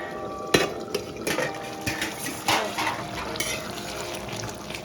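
A spoon stirs shingi fish curry in a metal pan, scraping and clinking irregularly against the sides over a soft simmering sizzle, close by with no talking.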